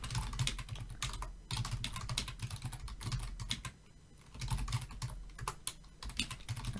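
Fast continuous typing on a computer keyboard while writing C# code, dense clattering keystrokes with brief pauses, close and steady, no voices.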